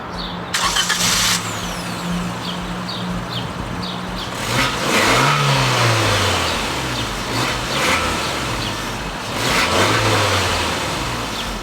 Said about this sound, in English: let's go and start up the Jimny